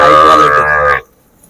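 A Sahiwal bull calf at a cattle market gives one loud, close, drawn-out moo lasting about a second, then stops abruptly into near silence.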